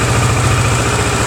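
A Kawasaki motorcycle engine idles close and loud with a steady, rapid low-pitched throb.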